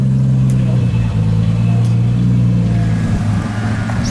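A 900HP Nissan Skyline GTR with an AWD 2.8L stroker and HKS T51R turbo runs close by with a deep, steady engine drone, holding a low throbbing rumble throughout with slight wavering.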